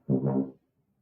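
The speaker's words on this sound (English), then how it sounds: "So that first little lick sounds like this." A tuba plays the short opening lick of a bass line, a brief, low, buzzy phrase of a few notes lasting about half a second, close and alone.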